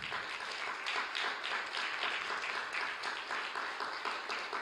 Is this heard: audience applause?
yes